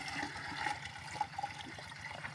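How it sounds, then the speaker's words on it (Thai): Water being scooped and poured into a watering can in a home garden, a steady close splashing and trickling with a few louder sloshes, no talking. "น้ำใส่บัวกันเด้อ น้ำใส่บัวตัก"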